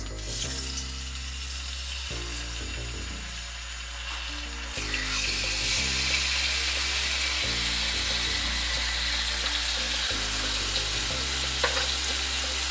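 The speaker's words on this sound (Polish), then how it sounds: "Tak zamarnowanego królika smażymy ze wszystkich stron przez kilka minut na rozgrzanym oleju." Seasoned rabbit pieces fry in hot oil in a pan, a loud steady sizzle and crackle with occasional stirring clatter, intensifying partway through and holding for the rest, with no voices.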